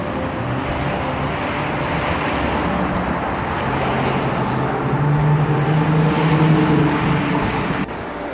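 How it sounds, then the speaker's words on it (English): Cars crossing the High Level Bridge over the frozen North Saskatchewan River, a continuous loud roar of traffic and tire rumble blended with wind, steady and close throughout. "The train goes along the top and the cars go along the bottom."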